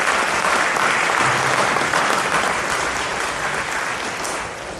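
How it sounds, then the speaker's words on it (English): An audience at a school band concert gives a round of applause for four French horn players, a dense, loud burst of clapping that slowly fades over about five seconds. "So, yes, you can give them a round of applause."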